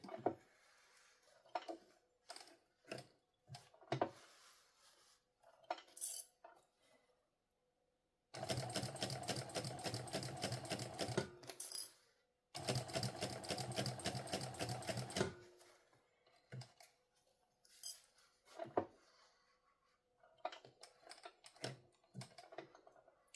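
A sewing machine stitches a fabric sling pouch in two long, steady runs, each lasting a few seconds with a brief pause between them, set among quieter handling clicks and taps before and after.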